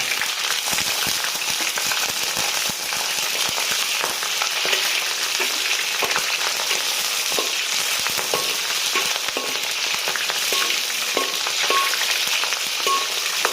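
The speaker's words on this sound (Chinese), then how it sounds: "蒜粒，还有这个大葱， 翻炒" Garlic cloves and scallion stir-fry in a hot wok in a commercial Guangdong beef offal kitchen, giving a loud, dense, unbroken sizzle with scattered crackles and spatula scrapes throughout.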